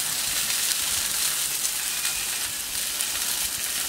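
Spring chickens grill on a hot plancha, giving a steady, loud, close sizzle with crackling hiss that holds unbroken throughout, no voices.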